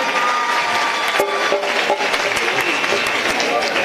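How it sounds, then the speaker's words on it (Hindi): Audience applause at the opening of a new government school in Deoli, Delhi, a lively patter of many hands clapping close by with sharp individual claps standing out and some crowd noise underneath. "जोरदार तालियां।"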